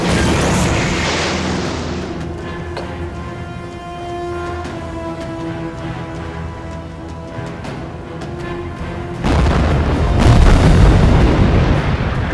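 Torpedoes strike a ship in a World War II naval war film with a roaring burst at the start and another heavy explosion near the end. A low, droning mechanical hum with steady tones fills the long stretch between the blasts.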